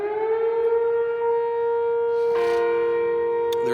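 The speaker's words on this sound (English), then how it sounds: "There's the town siren for noon." A town civil defense siren sounds at noon, a steady, loud, droning tone held throughout at a distance, with a brief rustle partway through.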